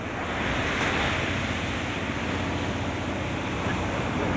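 Rough sea with heavy waves and wind around a stranded eel-trap fishing boat caught on a reef during a rescue, a loud continuous roar of surf and gusting wind with no voices.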